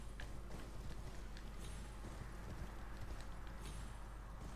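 Rapid, steady hoofbeats of a galloping horse in the video game Elden Ring, with a constant background hum, continuous throughout.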